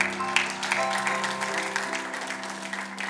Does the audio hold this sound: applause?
yes